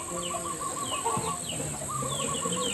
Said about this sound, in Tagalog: Ano yung ibon na yun?